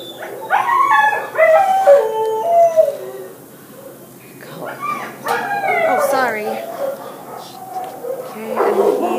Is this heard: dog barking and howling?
yes